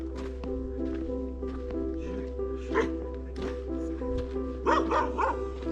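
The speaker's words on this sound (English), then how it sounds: "A dog takes exception to my presence." A dog near a mountain cabin by Blue Lake in the Hoover Wilderness barks at a passing hiker, with several sharp barks and yips spread across the clip, louder bursts near the end, over a steady low hum.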